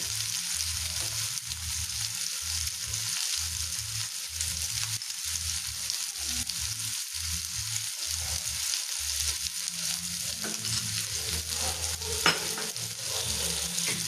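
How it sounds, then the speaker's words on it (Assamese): Food frying in Amul butter in a pan, a steady broadband sizzle running throughout with a repeated low scraping rhythm of stirring, close and continuous with no talking. "আমুল বাটাৰত যেতিয়া এনেকুৱা ফ্ৰাই কৰা হয়"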